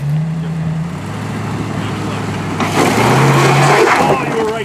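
A Land Rover Defender crawls over big rocky ruts off-road, its engine droning low and shifting pitch as it strains, rising louder in the second half, with voices talking over it.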